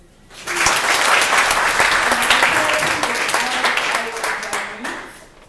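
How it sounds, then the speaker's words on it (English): Enthusiastic applause from a crowd at an international prayer meeting fills the room, steady and loud for several seconds before tapering off, with a few voices calling out over it. "Clap for them."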